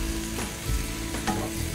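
Mushrooms and vegetables stir-fried in a pan for glass-noodle japchae, a steady close sizzle with light scraping stirs and no talking.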